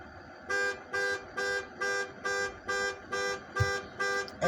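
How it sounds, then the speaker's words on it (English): A car alarm blares in a steady repeating pattern, nine loud evenly spaced horn-like pulses about half a second apart, close by, with no one speaking. "You know how sometimes you hit your alarm before you get in your car? This motherfucker just going off."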